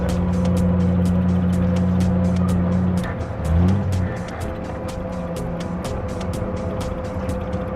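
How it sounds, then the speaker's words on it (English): Classic car engine idling quietly, a steady low hum with a smooth even tone, close by and alone for most of the stretch, with a brief shift in the middle. "That's a quiet car."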